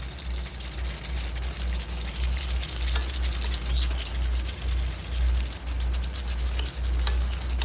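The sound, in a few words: two spoons of sour yogurt added to cooking chicken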